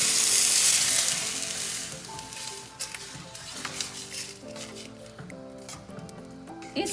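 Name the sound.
water poured into biryani pot with rice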